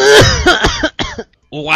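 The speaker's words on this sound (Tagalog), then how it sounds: "Umubo ka." A person coughs and clears their throat in several harsh, close bursts, a few separated by brief silences, in what sounds like a staged doctor's-visit skit.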